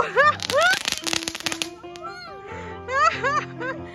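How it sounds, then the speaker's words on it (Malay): Crackling fireworks bursts and whistling sparklers at an Eid al-Adha celebration, mixed with children's chatter and excited squeals, several sharp pops over a few seconds. "Main bunga api je dah."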